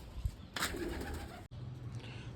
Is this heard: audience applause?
no